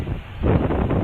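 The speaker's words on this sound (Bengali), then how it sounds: "এতটা যে হাওয়া আপনারা হয়তো আমার কথাটাও শুনতে পাচ্ছেন না" Strong wind buffets the microphone in low, rumbling gusts that swell louder midway, a close, blustery roar, near the Causeway in Surat.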